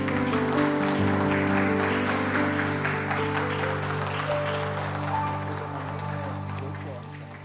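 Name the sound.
church congregation applauding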